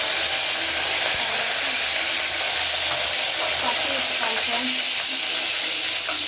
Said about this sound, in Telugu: 2 నిమిషాలు వేడెక్కిన తర్వాత జీలకర్ర వేసుకోవాలి